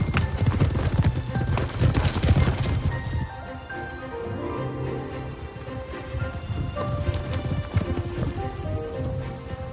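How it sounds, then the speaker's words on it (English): Hooves clip-clop steadily from a striding horse, loud and close at first, then softer under rain-like background noise with faint sounds nearby. "Nice looking horse, eh? Strides out well."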